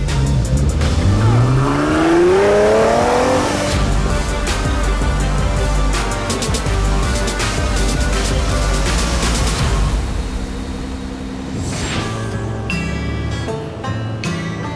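A 540-horsepower supercar accelerates hard with an engine roar climbing through rising revs and quick gear changes, loud and close, then easing off before a brief tire squeal near the end.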